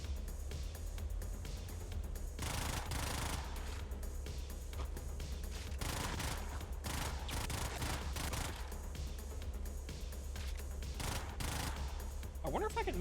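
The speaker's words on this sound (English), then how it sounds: "A lot of shotgun." Shotgun fire in the video game Brigador, with several heavy blasts and dense bursts of gunfire separated by quieter stretches, loud over a steady low rumble.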